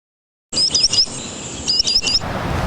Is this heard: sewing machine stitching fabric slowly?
no